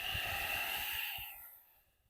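A single close exhalation during a yoga session, a breathy, slightly nasal push of air that trails away to quiet, heard alone without talk.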